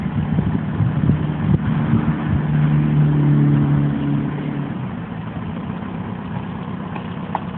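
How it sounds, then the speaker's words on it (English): A car engine idles and revs hard, rising to a loud steady roar in the middle before easing off, with no talk over it. "Start it. Step on the gas."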